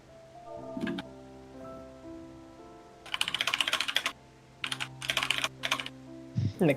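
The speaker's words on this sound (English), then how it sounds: "Mechanical keyboard noises." Mechanical keyboard typing during a Final Fantasy XIV raid session, with sharp clicking bursts of rapid keystrokes separated by short pauses, close and fairly clear over a low steady hum.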